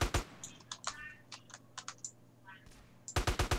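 Short bursts of M4 rifle fire in GTA San Andreas, a rapid string of sharp close shots at the start and a dense volley at the end, with sparser clicks and a voice in between.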